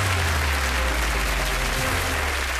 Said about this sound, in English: A big round of applause for Pink Paul.